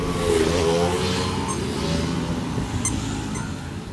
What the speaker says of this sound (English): The sound of the two-stroke and the smell always says Bali